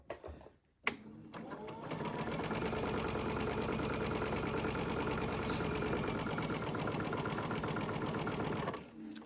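A sewing machine runs steadily for about eight seconds, stitching fabric for a doll with a rapid, even mechanical rattle, close and loud, with no talking.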